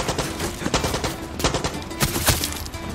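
Rapid gunfire rattles through a battle in Far Cry 6, with dense overlapping bursts of shots, some close and sharp, others more distant, continuing without pause and without talk.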